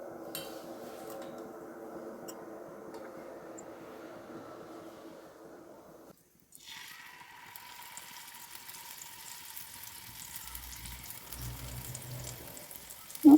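Fish is laid into hot oil on a pan and frying begins, with a steady, soft hiss after a quiet stretch and a brief pause, ending in a sharp clink of a utensil.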